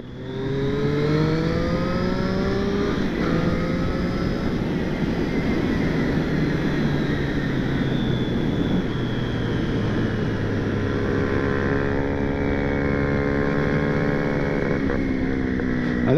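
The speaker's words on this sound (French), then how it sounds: "elle a un pot d'origine et elle siffle tout le temps bien" A 2020 Triumph Street Triple S 660 motorcycle with its stock exhaust, ridden steadily with a loud, continuous engine note whose pitch climbs and settles through the gears, accompanied by a whistling tone and wind rush, with no talking.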